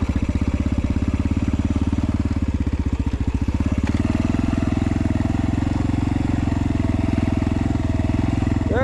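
An X-Pro Storm 150 DLX dual sport dirt bike engine runs loud and close, a rapid pulsing putter that shifts into a smoother, steadier drone partway through as the bike rides on.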